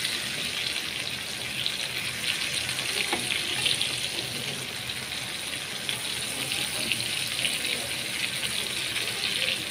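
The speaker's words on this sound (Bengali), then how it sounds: "তো উল্টাই দিব সবগুলাকে খুব সুন্দরভাবে, দুই পাশই সমানভাবে ভেজে নিব।" Slices of jali kumra (ash gourd) fry in a pan, giving a steady, even sizzle that hisses on throughout without pause and with no voices.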